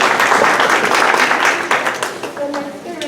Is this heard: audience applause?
yes